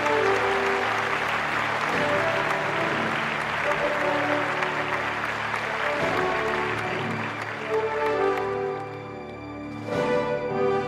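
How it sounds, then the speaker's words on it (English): An audience at a live awards ceremony applauds a winner, with sustained clapping under loud stage music that fades near the end. A short burst of clapping returns as it closes. "very big round of applause to Master Your Money"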